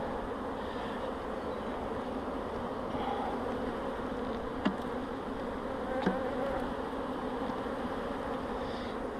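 Honeybees hum in a dense, steady drone at an opened hive during a spring inspection, close and continuous, with a couple of faint clicks from handling the frames.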